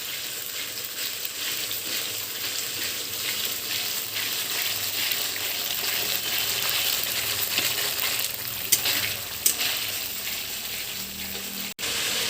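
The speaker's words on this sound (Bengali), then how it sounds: "মশলাটা দিয়ে এবার ভালো করে কষিয়ে নিতে হবে, যাতে মশলা থেকে কাঁচা গন্ধ চলে যায়।" Spice paste (masala) for a jackfruit and shrimp dish fries in oil, a dense continuous sizzle with occasional stirring clicks over twelve seconds, loud and close, with no talking.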